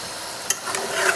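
Cooked green banana, eggplant and onion stalks stirred in a pan, a short close scrape with one sharp clack from the spoon and a soft sizzle underneath.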